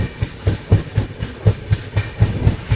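The 19260 Kochuveli Express running between Bhavnagar and Ahmedabad, its wheels beating a steady, evenly spaced clickety-clack over rail joints with a continuous rumble underneath, heard close from inside the train.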